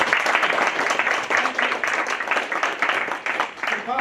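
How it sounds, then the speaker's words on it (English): An audience gives a speaker a warm round of applause: dense, continuous clapping from many hands, fairly close and steady throughout with no voices over it. "Another big, warm round of applause, please, for John White"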